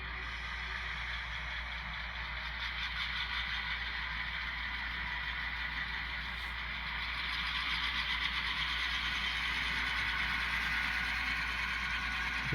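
Diesel locomotive engines of Line 5669 idling with a steady low rumble and hum, growing slightly louder as they start up, heard continuously with no talk.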